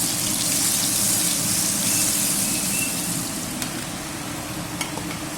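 Oil and butter sizzle in a pan for a tadka while cooking aloo palak in a village kitchen, a steady close hiss and crackle like light rain that eases slightly toward the end.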